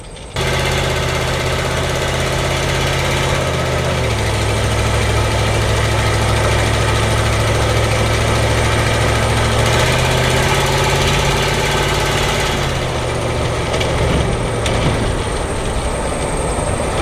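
A Ford Econoline Club Wagon van with a newly installed transmission drives along, its engine droning steadily and close, with the pitch dropping and rising as gears change, under constant road rumble.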